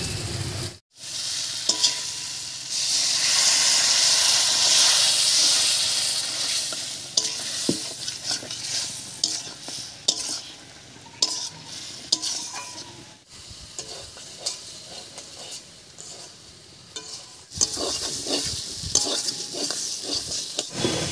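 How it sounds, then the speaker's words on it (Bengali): Potatoes are stirred and sautéed with spice-paste water in a pan, giving a loud close sizzle with repeated scraping and clinking of a spatula against the pan, broken by brief pauses. "এবার মশলা বাটা জল দিয়ে একটু কষিয়ে নেব"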